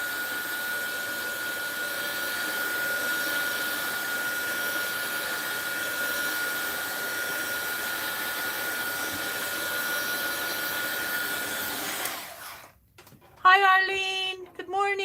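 A hair dryer blows steadily over a fabric watercolor painting for an art journal page, a constant close whirring roar that cuts off near the end, followed by brief talk.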